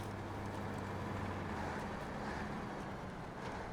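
A Taymyr truck's engine drones steadily while driving in the video game SnowRunner, a constant low, rumbling hum with no pauses or talk.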